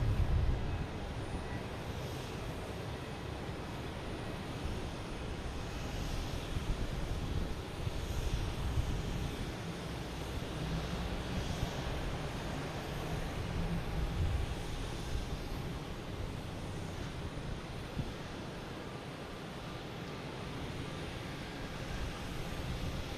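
An American Airlines Airbus A321neo at Boston Logan Airport gives a steady, broad jet roar that holds at a fairly constant level for the whole stretch, with no talk over it.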